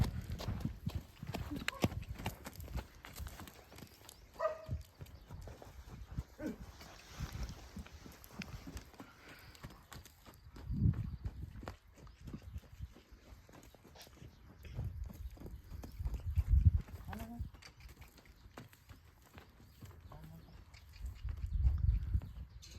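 A horse's hooves clip-clop steadily as it is led around on a village farm with cows. The steps are soft and fairly near, with occasional louder thumps, and no talking over them.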